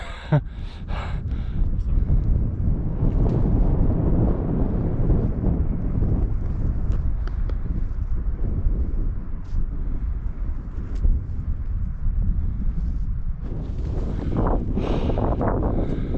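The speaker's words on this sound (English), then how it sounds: "It's not really raining anymore, it's just very windy" Strong wind roars across an exposed mountain summit during a wild camp, a loud continuous buffeting rush with gusts that swell and ease, the blast staying close and dominant from start to finish.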